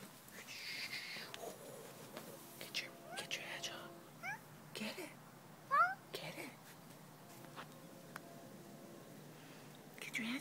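A cat cries with a series of rising, plaintive meows at close range, scattered across a quiet room while a person murmurs and whispers between them.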